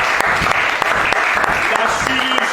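An audience at a religious gathering bursts into loud, steady clapping that continues throughout, close and dense, with a voice faintly audible under it.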